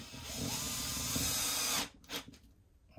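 A cordless screwdriver whirs steadily as it drives a screw into a Packout mount, a near, continuous motor whine lasting under two seconds before stopping with a couple of brief follow-up clicks.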